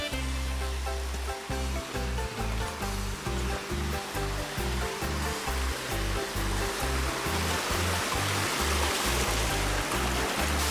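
A waterfall in Huehuetenango, Guatemala pours in a loud, steady broadband rush that fills the whole stretch, with pulsing low music underneath and no voices.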